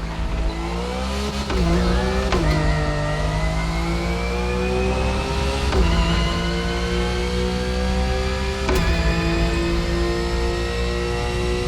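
A Porsche 911 GT3 Cup engine in a racing game revs through the gears, its pitch climbing steadily and dropping sharply at each of several shifts, loud and close.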